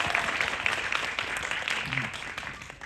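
Audience at a film screening and talk clapping, a dense steady patter of many hands at moderate distance, continuing throughout.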